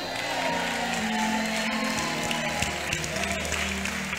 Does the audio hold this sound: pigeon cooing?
no